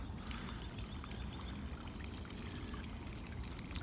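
A homemade backyard fountain, switched on by remote, pours water in a steady unbroken splash that stays close and fairly loud for the whole stretch, with no talking over it.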